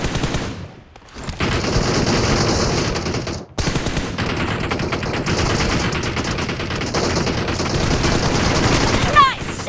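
Sustained rapid automatic gunfire from PUBG Mobile gameplay, loud and dense bursts continuing almost throughout with two brief pauses, a voice faintly mixed in.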